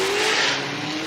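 Formula Drift race car sliding through a drift at the Long Beach, California street course, tires squealing in a loud, sustained shriek over steady engine roar with no talk.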